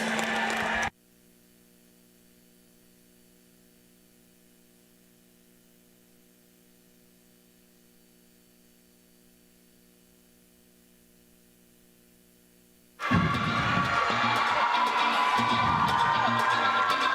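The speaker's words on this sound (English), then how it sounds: "Ladies and gentlemen, one more round of applause for your Hope College women's basketball coach, Brian Morehouse." Crowd applause and cheering erupt for Hope College women's basketball coach Brian Morehouse after his 700th win, at a women's basketball game against Alma. A short burst is followed by a long, nearly silent stretch with a low hum, then loud, sustained crowd roar.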